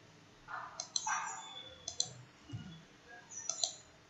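Faint, close clicks from a computer mouse while working in inventory software. They come in small groups of two or three, with short quiet gaps between the groups.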